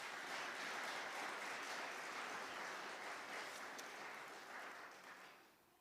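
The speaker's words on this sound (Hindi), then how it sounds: "तालियां बजाएं और प्रभु को धन्यवाद दें।" A church congregation claps together after a sermon, a thick, even roar of many hands that holds steady, then gradually thins and fades toward the end; quiet overall and heard from a distance.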